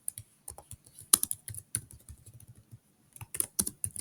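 Rapid, irregular keystrokes on a computer keyboard while an IP address is typed into a DNS server configuration, close and fairly loud, with clustered bursts and brief pauses, alone without speech.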